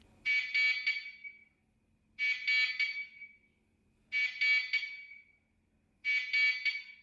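A ZOSI C289 pan-tilt-zoom security camera's motion-triggered siren blares in four loud, harsh buzzing bursts, each about a second long, separated by steady pauses of silence.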